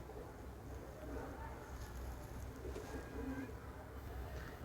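A pair of Teddy pigeons coo softly at a busy pigeon market, the faint low calls half buried under steady crowd murmur and background noise.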